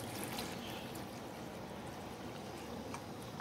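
Water poured into a pot of laksa nyonya broth gives a soft, continuous liquid splash and trickle, faint and steady, with no talking.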